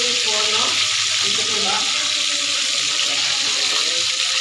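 Sweet and sour meatballs frying in a pan with a loud, steady sizzle and hiss, along with a few stirring scrapes early on, continuous and close throughout.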